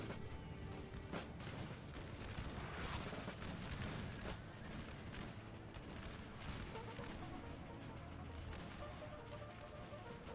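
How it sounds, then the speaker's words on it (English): Cannon artillery in the Napoleonic-era strategy game Napoleon: Total War fires as a dense, continuous battle din, with repeated booms and gunfire crackle layered over a constant roar for the whole stretch. "And then can I get all the cannons to fire on these guys?"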